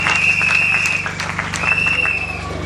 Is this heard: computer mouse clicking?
no